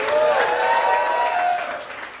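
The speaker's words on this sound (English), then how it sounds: "Can I get another round of applause for Kanan?" Applause at a standup comedy show fills a short burst of dense, loud clapping from the audience, holding steady and then tapering off near the end.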